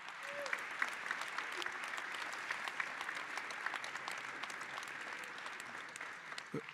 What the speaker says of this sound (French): Je propose qu'on les applaudisse très fort.